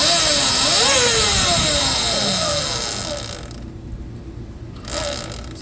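The electric motor of an Eride Pro SS e-bike runs while its raised rear wheel spins after a jackshaft, pulley and belt change, a loud close whine that sweeps in pitch and then winds down, with brief re-revs near the end.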